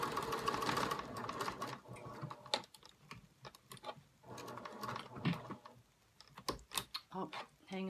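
A sewing machine stitches a fabric project bag in quick mechanical bursts that start and stop, each run a rapid clatter of needle strokes, close and fairly quiet.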